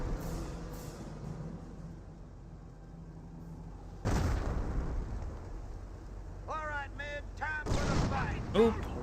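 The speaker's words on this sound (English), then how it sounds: "Oop, landmine detonation." A landmine detonates in the World War II strategy game Company of Heroes: a sudden loud, booming blast over steady battle rumble, followed by more bursts of gunfire while a commentator talks.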